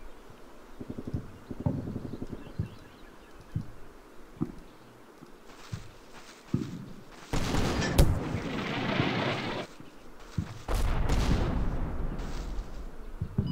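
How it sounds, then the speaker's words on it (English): Mortar rounds fire in Combat Mission Final Blitzkrieg, set among World War II fighting at Cheneux, with a scatter of lighter thuds first and then two loud, booming discharges that rumble and roll on for a few seconds each. "The animations for the mortar shooting are pretty sweet."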